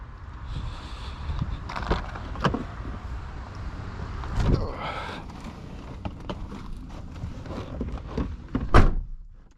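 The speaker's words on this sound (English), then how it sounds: "Oh, also you have soft closed doors." Soft-close doors on a 2005 Mercedes S500 W220 pull shut with muffled thuds and mechanical whirring, several door closures at close range over a low background rumble.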